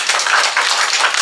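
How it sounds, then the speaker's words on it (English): An audience at a developer meetup applauding, a dense, steady wash of many hands clapping together throughout, fairly loud and close. "And you're clapping for me"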